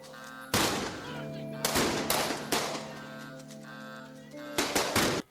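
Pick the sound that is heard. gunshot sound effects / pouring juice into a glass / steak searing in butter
gunshot sound effects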